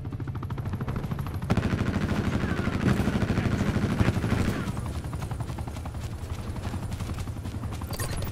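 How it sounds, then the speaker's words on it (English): Rapid bursts of automatic gunfire mixed with the throbbing rotor of an attack helicopter overhead in Call of Duty: Black Ops 4, loud and continuous with dense rattling fire through most of the stretch. "Enemy attack chopper above."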